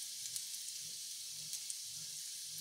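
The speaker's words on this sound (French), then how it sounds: "Et on va mettre les courgettes et les faire dorer." Courgettes fry in oil in a pan for a ratatouille provençale, a steady close hissing sizzle with soft crackles and faint low clinks, no voice.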